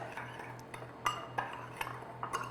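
Granulated sugar and ground cinnamon being mixed in a bowl, quiet scattered clinks and taps of a utensil against the bowl over a faint low hum, close and sparse.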